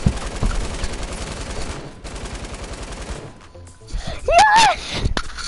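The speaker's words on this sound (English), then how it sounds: "There's a mini gun right here." A minigun fires in a PS4 video game as a dense, continuous rapid burst of loud shots lasting about three seconds, then cuts off abruptly. A short vocal yelp or exclamation follows in the quieter tail.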